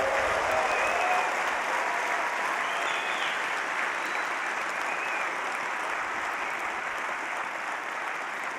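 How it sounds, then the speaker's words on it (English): An audience at an outdoor solar car race awards ceremony in Adelaide claps in sustained, dense applause that stays loud and even throughout, with no speech over it. "You all deserve a great cheer."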